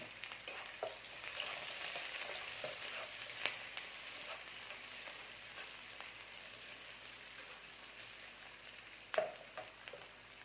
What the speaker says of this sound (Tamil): வெங்காயம் நல்லா வதங்கிருச்சு இப்போ கருவேப்பிலை சேர்த்துக்கலாம் இது கொஞ்சம் நேரம் வதங்கட்டும்